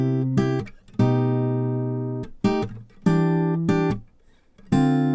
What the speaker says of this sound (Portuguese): Esse é o som do violão sem nada